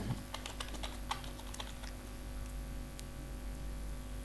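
A computer keyboard being typed on, a quick run of light clicking keystrokes in the first couple of seconds, close and fairly quiet, followed by a faint steady hum with no further keystrokes.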